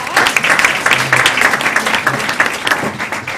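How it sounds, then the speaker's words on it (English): A school board meeting audience gives a loud, dense round of applause, many hands clapping steadily for several seconds, with a faint voice mixed in. "we're going to give her a big round of applause"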